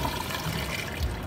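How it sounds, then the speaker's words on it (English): A Niagara Stealth vacuum-assist toilet flushes, a steady broadband rush of water and air with a brief low gulp near the end, fairly close and without speech. "when you flush the stealth toilet, you can see the water spot in the bowl move before the water enters the bowl"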